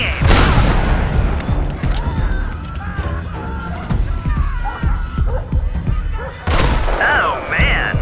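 A rocket strike explodes in the video game Sniper Fury, with heavy booming blasts and crackling gunfire rolling through a loud battle, and a fresh blast bursting in near the end while voices sound over the chaos.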